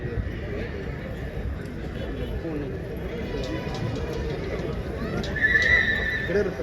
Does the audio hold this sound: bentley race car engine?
no